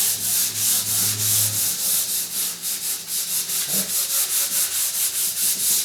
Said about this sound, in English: I like to go vertical on sanding rather than horizontal or circular